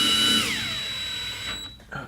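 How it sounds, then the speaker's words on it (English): Cordless screwdriver driving ground screws into a board, with a steady whine that winds down after half a second, then fades, with a brief bump near the end. "if you're going to use a screwdriver like this, you want to put it on low torque so you don't like damage the board"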